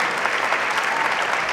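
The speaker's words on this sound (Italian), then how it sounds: "Un lungo, lunghissimo e scrosciante applauso ha accolto Francesco Guccini sul palco del Teatro Alfieri di Castelnuovo" A theatre audience at the Teatro Alfieri in Castelnuovo applauds steadily, a dense, continuous wash of clapping from many hands with no pauses.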